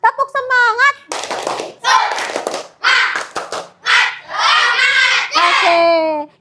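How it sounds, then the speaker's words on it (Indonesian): A primary-school class performs a rhythmic group clap, several quick bursts of clapping in a steady pattern mixed with children's chanting voices, loud and close in a classroom. "Tepuk semangat."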